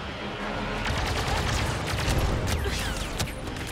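Rapid blaster gunfire from a Star Wars Battlefront 2 battle, dense overlapping bursts of shots crackling continuously at steady loudness, with no talk.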